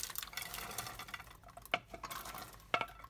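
A spoon stirs vegetables through a pot of creamy oat soup with soft scraping and swishing, broken by two sharp clinks of metal against the pot.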